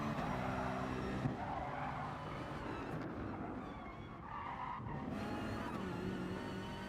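A Toyota Supra race car in GT Sport runs at speed with a steady engine drone and tyre squeal through corners, the engine note shifting as it brakes and accelerates, faint and continuous under the game audio.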